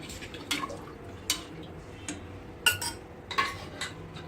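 A spoon scrapes and clinks against a metal pressure cooker while dal khichdi is mixed with water, in a slow, irregular rhythm, each stroke short and fairly close.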